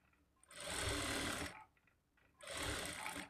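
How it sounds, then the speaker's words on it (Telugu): A sewing machine stitches a straight seam along marked lines on a blouse lining, running in two loud bursts with a short pause between them. "మార్కింగ్‌కి స్ట్రెయిట్‌గా స్టిచ్ చేసుకోవాలి."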